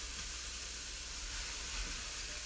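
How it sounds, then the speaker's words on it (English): Zucchini noodles sizzle in a hot, dry non-stick frying pan over high heat, a steady soft hiss with no voices. "And you wanna hear that sizzle."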